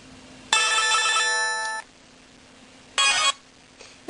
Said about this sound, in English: it's just the sound that it makes when you get a text message